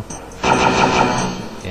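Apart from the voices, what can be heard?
Dragon Claw weapon firing in video game Heretic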